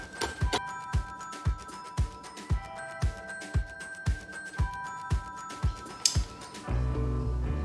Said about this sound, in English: Just grab your peanuts. And all we're going to do is give these a rough chop.